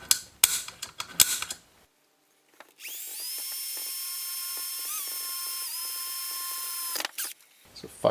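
A power drill bores a hole in the metal chassis of a 1950 RCA 9-X vacuum tube radio, spinning up in one steady whining run of about four seconds, with handling clatter before and after.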